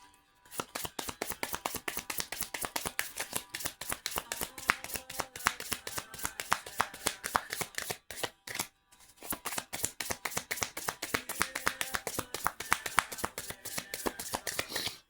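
Playing cards shuffled over and over in a close, steady run of crisp riffling bursts, with one brief pause midway before the rapid shuffling resumes.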